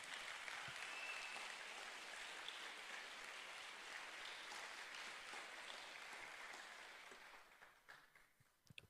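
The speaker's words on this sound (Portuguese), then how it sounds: "Você pode aplaudir ao Senhor Jesus?" Congregation applauding in church during a Sunday service: sustained crowd clapping, fairly distant and soft, steady throughout before fading out over the last couple of seconds.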